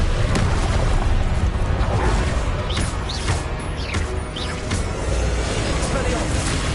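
In Hogwarts Legacy combat, Confringo fire spells burst repeatedly in quick succession, their booming blasts layered over continuous battle noise and game voices.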